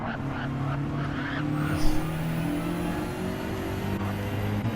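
A race car in a sim-racing game on the Nürburgring Nordschleife corners at speed, its engine droning steadily with tire noise and a faint high squeal running underneath throughout.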